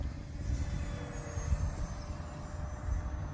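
Hobbyking 750mm Hawker Hurricane RC model airplane flying, a steady electric motor whine over a rough, breezy rumble outdoors, fairly loud and continuous without talk.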